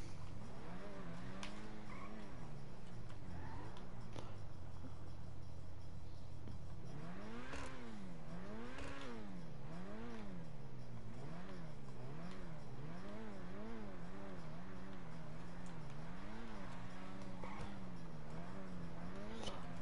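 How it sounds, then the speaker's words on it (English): A loud Grotti Cheetah GTO-style sports car in GTA, its engine note revving up and down in repeated wavering sweeps with a tire squeal or two, steady and close throughout. "my challenge GTO is fucking loud"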